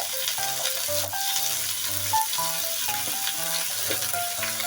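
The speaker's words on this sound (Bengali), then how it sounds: "এটাকে ভাজা ভাজা করবো।" Shrimp seasoned with salt and turmeric fry in a pan with a constant sizzling hiss, partly covered by melodic background music playing throughout.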